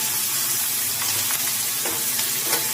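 Turmeric and red chili powder fry in hot oil for a dal tadka, giving a close, loud, steady sizzle with faint stirring scrapes throughout.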